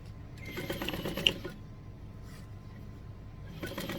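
Home sewing machine stitching binding onto a quilt along a pressed line, two short, quiet bursts of motor whir and needle chatter, the first longer, against a soft room background.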